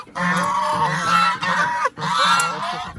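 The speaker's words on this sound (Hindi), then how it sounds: "अभी बारी आती है हमारी बड़ी बतखों की" Large ducks honk loudly in a mini zoo, a few close, harsh, goose-like honks in quick bursts separated by short gaps, with no talking.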